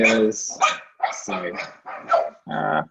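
A dog barks repeatedly at close range in a quick series of loud, sharp barks, with a speaking voice mixed in during the barking.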